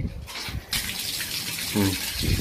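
A bathroom tap with a broken filter runs water in a steady gush, while someone talks over it at close range.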